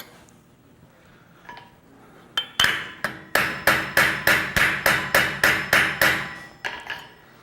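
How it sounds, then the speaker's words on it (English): Blacksmith striking metal with a cross peen hammer: a few scattered taps, then a steady run of about a dozen sharp, ringing blows at an even rhythm, close and loud with no talk. "sometimes the cross peen can reach in there better than the ball peen."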